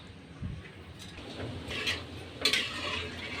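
Polao rice stirred in a pot for shahi chicken polao, with a utensil scraping and scuffing through the grains, close and steady, with a few louder scrapes against the pot.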